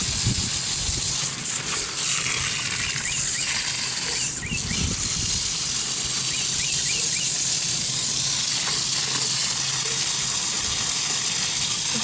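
HVAC coil cleaner drains from a coil with a continuous hiss of trickling and spraying liquid, joined by faint ticking and a few brief mechanical clatters.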